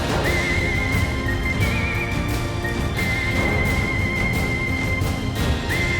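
A horse wearing horse armor in modded Minecraft neighs repeatedly. The whinnies are loud and drawn out, with faint hoof clip-clops underneath and no talking.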